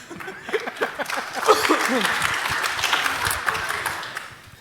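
Audience applause in a large gathering, a dense crowd clapping that swells and holds steady at moderate loudness, with scattered voices and cheers mixed in at the start.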